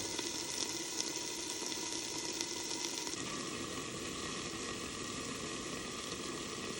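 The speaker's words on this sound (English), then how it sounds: "Get that in there, sizzling." Cabbage sizzles steadily in a hot pan with a lot of water in it, a dense, even hiss that holds unbroken throughout and shifts slightly in tone partway through.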